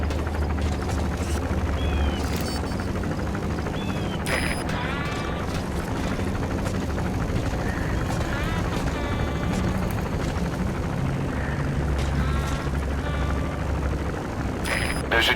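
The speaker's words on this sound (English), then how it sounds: "There's a chopper landing." A helicopter lands in the video game Metal Gear Solid V: The Phantom Pain, its steady rotor roar filling the scene throughout, with a few brief higher tones and faint noises over it.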